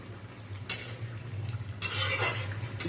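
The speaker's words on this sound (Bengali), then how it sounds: "কিছুক্ষণ বাদে নেড়ে চেড়ে নিলাম" Ridge gourd and potato fritter curry stirred in a pan with a spoon, giving scraping and soft clinks over a low simmer, with two louder stirring bursts close by and no talking.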